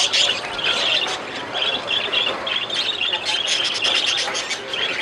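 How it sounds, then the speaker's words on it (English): A large flock of hand-fed parakeets in an interactive aviary gives off dense, overlapping chirps and squawks, bright and continuous throughout, with a busy background hum. "there's hundreds of birds around you that come up and feed right off your hands"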